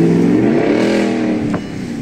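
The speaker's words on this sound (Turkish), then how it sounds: "V8 Touareg. Cherokee gibi sesi var lan arabanın." A V8 Volkswagen Touareg engine in a repair-shop setting revs up with a rising, throaty drone and a brief sharp blip near the end, heard close and loud with no voices.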